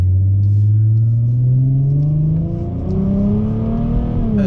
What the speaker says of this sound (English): Oh yeah, it accelerates really good.